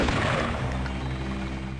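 Explosive barrels blow up in the video game Deus Ex, a single loud boom that decays into a long rumbling, crackling tail with steady game ambience beneath.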